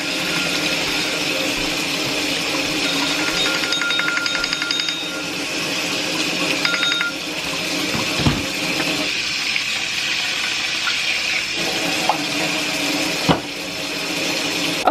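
Rice being rinsed by hand in a sink, water running from a tap with soft sloshing and trickling, a few knocks and clatters breaking through, steady and close with no talking.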